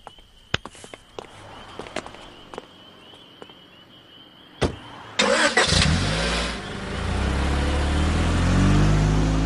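A car in a Hindi film scene starts up and pulls away, engine rising to a loud, steady drone after a few scattered clicks and footsteps.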